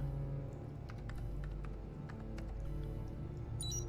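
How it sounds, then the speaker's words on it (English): Rapid, irregular typing on a computer keyboard in the video game Heavy Rain, light clicks scattered over a steady low game hum, faint and without talk. "Why does she type on the keyboard like that?"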